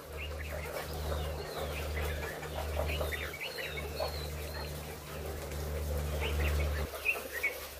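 Chickens cluck and chatter continuously in a poultry farm shed, a dense flock heard over a steady mechanical hum from equipment.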